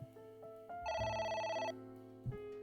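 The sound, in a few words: phone ringing in the video game AI: The Somnium Files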